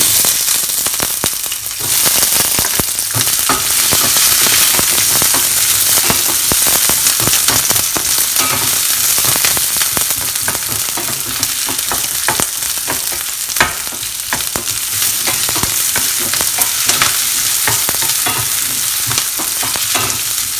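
Onion frying in hot oil with cumin and spluttering mustard seeds, a loud constant sizzle full of sharp crackles and pops, with occasional stirring throughout.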